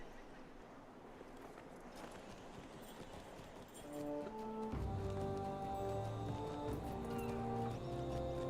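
A mount goat's hooves clip-clop in a steady trotting rhythm in the Lord of the Rings Online video game, faint and low under soft game music that swells midway.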